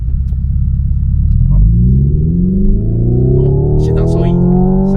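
A Hyundai Ioniq 5N electric car's simulated engine sound revs up to 8000 rpm, a loud, close droning rumble climbing steadily in pitch while a voice talks over it.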